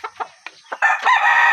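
A hybrid rooster crows loudly and close by, after a few short clucking calls, with the crow stretching into a long drawn-out final note.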